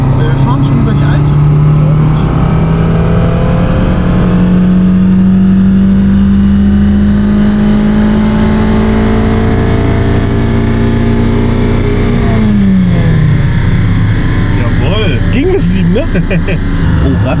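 Fiat Panda 100HP accelerating at full throttle in fifth gear on a dyno, its engine note climbing steadily for about twelve seconds before dropping off, loud and close throughout.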